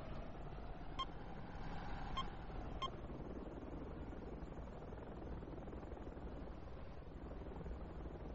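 A video game helicopter drones steadily for several seconds, a constant loud rotor and engine roar with a few faint electronic beeps early on and no voices.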